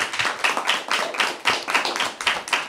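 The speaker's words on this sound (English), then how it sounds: "Please give him a warm round of applause." Scattered clapping from a small audience at a talk event in Derry, steady and close, without cheering.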